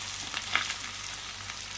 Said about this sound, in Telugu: టమాటా ముక్కలు, పచ్చిమిర్చిని యాడ్ చేసుకున్నాం. ఇవి కూడా ఒక 2 నిమిషాల వరకు మనము ఫ్రై చేసేద్దాం.